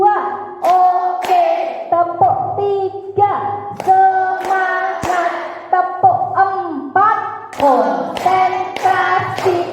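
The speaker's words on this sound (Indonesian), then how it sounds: "Tepuk satu, tepuk dua, oke, tepuk tiga, semangat, tepuk" A group of teachers at a workshop plays a rhythmic clapping game, with loud, sharp claps in counted bursts. Voices chant between and over the claps.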